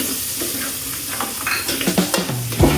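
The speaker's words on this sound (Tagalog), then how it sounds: "sa akin kasi guys is ginigisa ko yung pan, yung paminta para lumabas yung aroma." Black peppercorns toast in a hot pan, giving a close, loud sizzle with scraping stir strokes and a metallic clink near the end. No one speaks.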